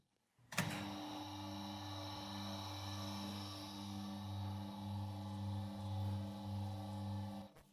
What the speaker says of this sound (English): Start the mixer.